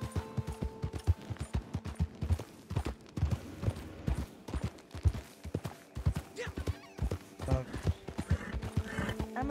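Horse hooves clip-clop steadily in Red Dead Online, a quick even gallop rhythm that runs nearby throughout, with faint game ambience underneath.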